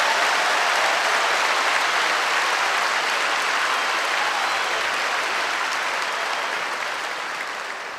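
Sustained applause from a large congregation at an evening church service, dense and steady, clapping continuously for several seconds before tapering slightly at the end.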